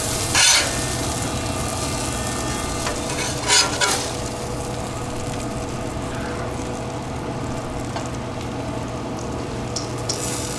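Doubled-up smash burger patties fry on a Pit Boss Charleston Onyx Edition griddle, giving a constant crackling sizzle with a few sharp scrape-like clicks on top and no voices.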